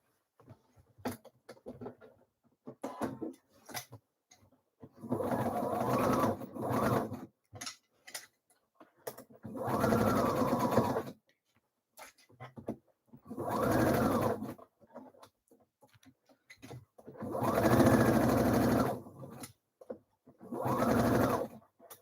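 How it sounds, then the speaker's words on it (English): A sewing machine stitches the sleeve into an Atelier Jupe Frida blouse, running in five or six separate bursts of a few seconds each with short pauses between them, close and steady, with no voices heard. "Right, so one sleeve is stitched in now. I'm just going to do the other one."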